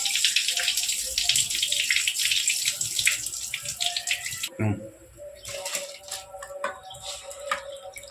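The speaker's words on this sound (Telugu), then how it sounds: "ఇప్పుడు మనము నానబెట్టుకున్న బియ్యాన్ని పూర్తిగా నీళ్లు వంపేసుకొని" Water draining off soaked basmati rice for biryani, a steady splashing pour like a running tap for the first half, then a quieter trickle with small drips and clinks close by.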